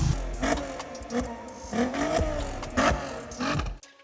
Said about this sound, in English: It's proper boosting, isn't it?